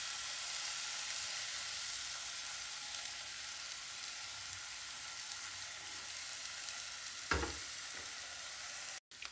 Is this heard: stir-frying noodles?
yes